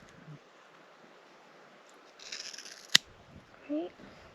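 A single sharp scissor snip cuts through the thick mane of a Fjord horse in a quiet room, with faint rustling of hair before and after.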